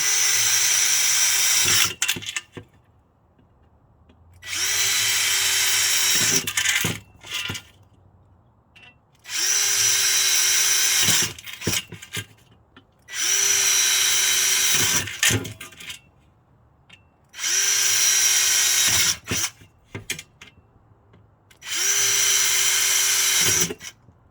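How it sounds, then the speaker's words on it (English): A power drill boring through aluminum camper wall whines in five separate bursts of a few seconds each, loud and close, with short pauses and clicks between them. "This is aluminum, so it's really easy to drill through."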